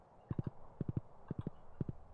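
Horse hooves in Stardew Valley clip-clop in quick groups of three soft, low thuds, repeating four times at an even pace, close and fairly quiet, with no talking.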